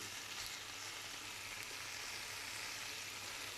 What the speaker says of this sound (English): then just cook the bacon until it's nice and brown